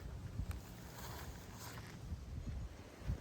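Low, gusty wind rumble buffets the microphone in a garden on a cold day, with a few stronger bursts, steady outdoor blustery noise throughout.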